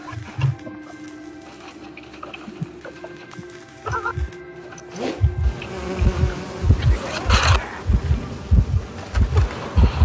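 Insistent buzzing of bees in a video game hums steadily throughout, with a low thudding rhythm of impacts and footsteps building in the second half.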